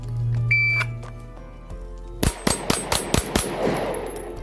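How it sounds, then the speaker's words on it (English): A rapid string of six close pistol shots fired during an FBI pistol qualification course on an Arizona range, sharp evenly spaced cracks following an electronic shot-timer beep and a quiet stretch beforehand. "then fire 4 more rounds in 8 seconds"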